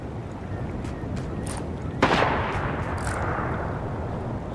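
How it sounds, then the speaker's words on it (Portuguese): Sniper rifle shot in the Fortnite video game: a single sharp crack midway, heard at a distance with a short rumbling tail over faint background game ambience. "Tiro de sniper."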